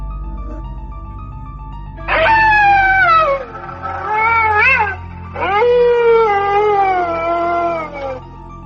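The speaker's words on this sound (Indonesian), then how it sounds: "Suara anjing mengaum yang tepat berada di samping rumah." A dog howls beside a house at night, long wavering howls rising and falling in pitch, loud and close, in two or three drawn-out bursts over a low background hum.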